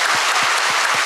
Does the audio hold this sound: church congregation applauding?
yes